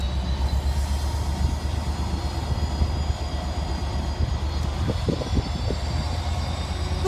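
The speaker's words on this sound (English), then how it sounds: "It's the Great Western Railway Riviera sleeper." Great Western Railway Riviera sleeper train hauled by locomotive 57503, leaving platform 2 at Dawlish, a steady loud diesel rumble with a faint high whine and a few clanks near the end.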